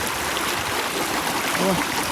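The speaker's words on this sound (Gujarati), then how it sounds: "બે મોટરનું ભેગું પાણી આવે છે" Water from two motor pumps pours out of a pipe at a farm well, a steady dense rushing roar throughout, with a brief voice sounding faintly under it.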